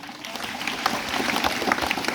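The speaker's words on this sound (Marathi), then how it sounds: "मंत्री साठी टाळ्या वाजवा एकदा आपण" Audience clapping for the minister at a village school lecture on Dr. Babasaheb Ambedkar's birth anniversary, a steady, moderately loud patter of many hands throughout with no talk over it.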